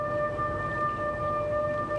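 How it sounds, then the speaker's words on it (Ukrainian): Sustained wailing tsunami warning sirens with steady tones, heard at a distance over low background rumble throughout. "Лише у постраждалих районах, як і чотири роки тому, пролунали сирени тривоги."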